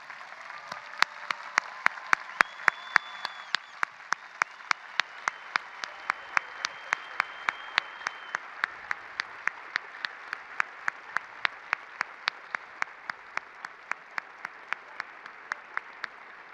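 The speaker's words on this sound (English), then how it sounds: "Let's please give them a round of applause." The crowd at Mason High School's 2022 commencement applauds students who serve in the military. It is a long, soft, steady spread of clapping with crisp, regular individual claps cutting through, and no one speaks.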